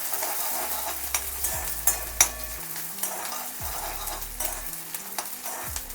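Onions frying in a pan while a Konkan-style rawas fish fry masala is prepared, with a steady broadband sizzle, scattered scraping and stirring clicks from a spatula, and a low hum underneath; no talking.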